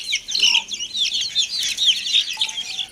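Backyard hens and chicks keep up a steady, busy clucking and peeping while being fed leftover household food, a dense, close chorus with no voices.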